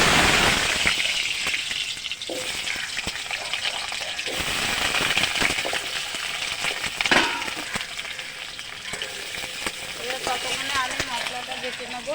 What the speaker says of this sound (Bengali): রসুন আর লঙ্কা বাটা ভাজা হয়ে গেছে নামিয়ে দিলাম